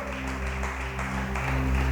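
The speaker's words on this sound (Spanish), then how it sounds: "Dale ese aplauso grande al Rey" A congregation applauds during a church service, the clapping blended with loud sustained organ or keyboard chords and bass that carry under the whole stretch.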